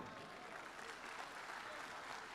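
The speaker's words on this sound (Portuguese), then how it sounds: "Uma salva de palmas para os homens" Audience applause at a live motivational event, a dense, even wash of many hands clapping continuously at a fairly faint, distant level.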